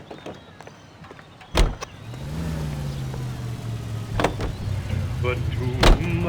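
Car in L.A. Noire: a door thump and clicks, then a steady engine hum rising in pitch as the vehicle pulls away, with another sharp thud near the end and a voice speaking over it.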